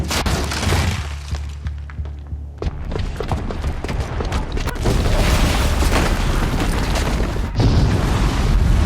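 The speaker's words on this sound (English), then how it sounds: "the booby trap on the bomb downstairs is gonna get set off" A bomb goes off in Horizon Zero Dawn, a loud booming blast with shattering debris that rolls on as a sustained roar, swelling again near the end with no voices over it.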